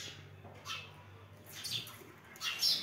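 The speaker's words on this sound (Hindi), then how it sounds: "सारे खोते में चिड़िया रहती है" Small birds chirp and squawk around handmade nest boxes, a few brief irregular calls at moderate distance over a quiet background.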